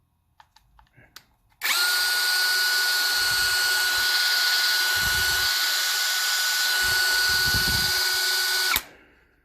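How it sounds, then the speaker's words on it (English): A Worx Nitro cordless power drill whirs at a steady high pitch for about seven seconds, close and loud, then winds down abruptly, with a few low thumps and handling knocks underneath. "So this is the brand new nitro drill,"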